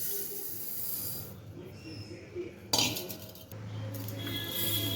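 Millet grains poured from a measuring cup into a metal vessel, a soft hissing rattle with a clink of metal, then a brief pause and a second steady pour, all close and quiet.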